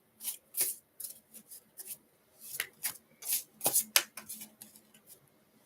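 A deck of tarot cards being shuffled by hand during a live reading, with a run of quick, close papery riffles and rubs arriving in uneven bursts, each burst a crisp flutter of card edges.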